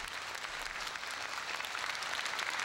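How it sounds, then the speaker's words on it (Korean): A church congregation gives warm applause during a visit to Pyongyang, a dense, continuous wash of many clapping hands heard alone, soft and steady from start to finish. "그 벅찬 사랑에 뜨거운 박수로 화답했다"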